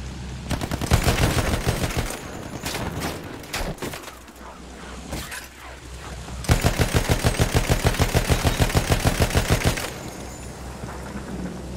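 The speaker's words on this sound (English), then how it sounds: "Machine gun, hostile!" Machine gun fire in Battlefield 1, with loud rapid bursts of automatic shots, a broken spell of fire early on, then a long steady run of evenly spaced rounds before it stops.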